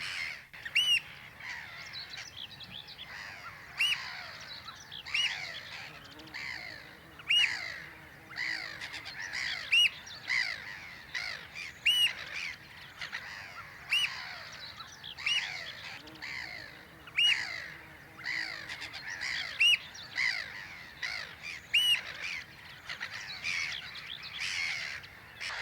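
A Mediterranean gull breeding colony at the Snettisham pits calls steadily, with many overlapping harsh, downward-sliding cries at close and middle distance and no pause across the scene.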